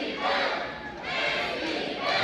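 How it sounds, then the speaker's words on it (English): Wrestling crowd at an indie pro match chanting for "Uptown" Andy Brown, a dense, loud roar of many voices in rhythmic rising and falling waves, sustained throughout. "with no prompt to the crowd, the Andy Brown chant starts"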